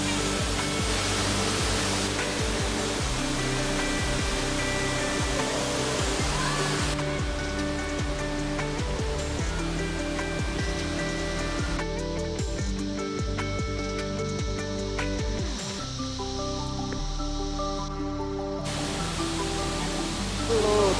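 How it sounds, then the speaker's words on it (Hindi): Waterfall at the Darjeeling Rock Garden, a steady broadband rush of falling water that runs continuously for the whole stretch, close and fairly loud, with faint music-like tonal layers mixed in. "ऊपर देखिए झरना किस तरह से जो झरना दूसरे की तरफ आ रहा है।"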